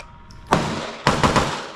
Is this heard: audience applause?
no